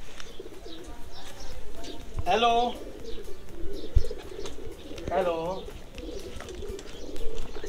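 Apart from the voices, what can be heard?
Shahzade breed pigeons cooing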